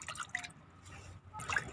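Water dripping and trickling from freshly rinsed pumpkin vine greens in a kitchen, faint scattered drips in a quiet room.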